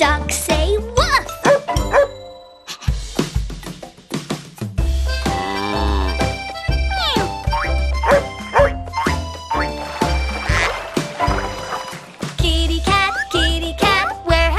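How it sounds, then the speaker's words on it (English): A dog's woof sounds within a bouncy children's song about a kitty cat visiting a barn, with sung vocals, jingles and bright instruments carrying throughout; the bark is likely voiced in the song rather than a real dog. "I watched the dog say woof!"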